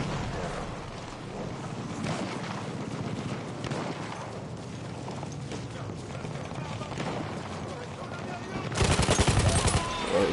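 Sniper gunfire in a video game arrives as a dense, continuous run of cracking shots and explosive rumble, loud throughout and surging harder near the end, with no speech.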